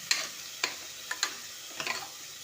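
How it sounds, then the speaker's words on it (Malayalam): Lentils dry-roasting in a pan, with a few soft, scattered scraping stirs and light crackles over a faint background, no voices. "പരിപ്പ് നല്ല വറുത്തെടുക്കണം"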